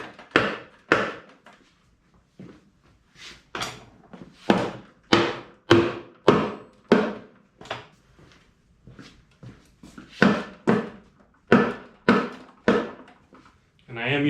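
Rubber mallet striking the differential case of a Tesla-powered 1940 Chevy to break it open, about twenty sharp dull thunks in an irregular series, close and fairly loud with brief gaps between.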